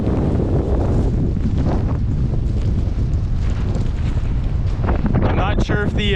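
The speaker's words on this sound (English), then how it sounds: "the snow squalls are blowing off the lake, creating a giant ice ridge" Strong wind from snow squalls blows off a frozen lake, a loud, steady roar buffeting the microphone throughout with gusty rumble, and brief higher tones near the end.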